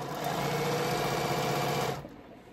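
A sewing machine stitching quilting fabric at steady high speed gives a loud, continuous mechanical whir that stops abruptly near the end, with no talking.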